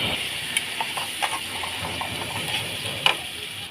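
Goat mince cooks in a pan of spiced masala with turmeric, chili powder and chopped tomato, a soft steady sizzle and hiss under faint clinks and stirring taps.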